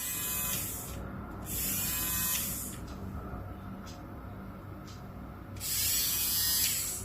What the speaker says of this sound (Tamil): இது வந்து பார்த்தீங்கன்னா காஃபி பீட்டரு இது காஃபி பீட்டர்னு சொல்லலாம்